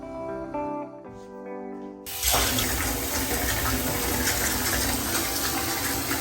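Tap water pouring into a bathtub, a steady full gush that starts abruptly after a couple of seconds of quieter tonal sound and then continues loud and close to the end.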